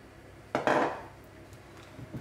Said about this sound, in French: On mélange encore.